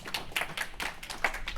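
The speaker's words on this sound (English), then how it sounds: "Now we're looking for applause." Audience applause at a symposium session, a short burst of brisk hand clapping with distinct individual claps.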